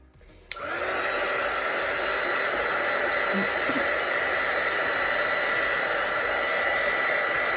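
After a brief quiet moment, a hair dryer switches on abruptly and blows at a steady, loud, constant roar while drying vinyl on a tumbler.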